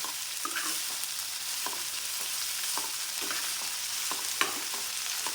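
Shallots and halved green chillies sauté in a pan for a bitter gourd theeyal, a steady close sizzle of frying broken by soft stirring scrapes at regular intervals.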